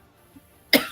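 A single short cough bursts out near the end after a near-silent pause, close and fairly loud.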